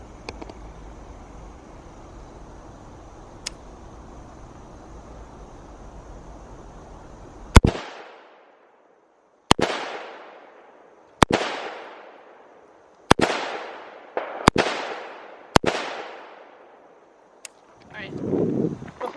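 Gunshots fired into a self-healing, color-changing target: six or seven loud, sharp cracks at uneven intervals, each with a fading echo, after a stretch of quiet background noise.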